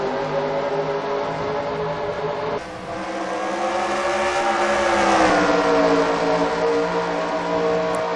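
Race cars scream around Canadian Tire Motorsport Park (Mosport) in a NASCAR video game, with a loud, steady engine whine that jumps and then climbs in pitch midway as the pack accelerates.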